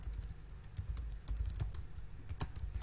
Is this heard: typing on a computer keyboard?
yes